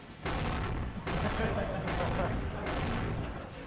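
Rocket blasts in the video game Spyro: Year of the Dragon come as four loud, broad booming explosions in steady succession, each roaring about a second and running nearly back to back.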